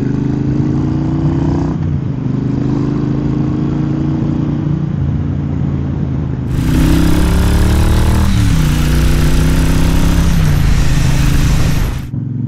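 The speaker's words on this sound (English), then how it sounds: "So here we are, the Triumph Bonneville 1200cc first ride impressions." Triumph Bobber 1200cc motorcycle engine running steadily at a loud, close level while being ridden on twisty country roads, its pitch rising and falling through gear changes, with a sharp surge in revs about halfway through.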